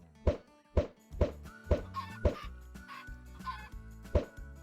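Repeated short clucking bursts from Minecraft chickens, about six sharp calls spaced irregularly over a steady electronic background hum, fairly close and clear.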